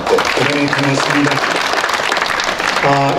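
Applause at a memorial ceremony for President Syngman Rhee's 60th death anniversary in a memorial hall, steady and fairly loud throughout, mixed with sustained tones, likely music, near the start and end.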